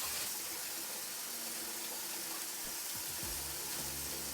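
Tap water runs steadily into a plastic basin during bedside catheter care, a soft continuous splashing hiss at low level with faint clinks and handling noises near the end.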